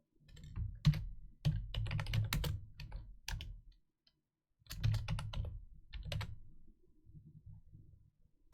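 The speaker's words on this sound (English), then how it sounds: "Let's hear how the keyboard sounds for you all." Computer keyboard typing, close and crisp: bursts of rapid key clicks, a brief pause, then more clattering runs and a few lighter taps trailing off, with no voice over them.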